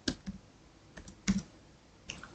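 Keystrokes clatter on a computer keyboard while C++ code is typed, a few separate clicks and short bursts spaced irregularly, close and fairly quiet with no talking.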